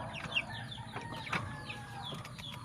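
A hen clucks in short, scattered calls over a steady farmyard background, with bird chirps and a few brief flutters mixed in, moderately near and not very loud.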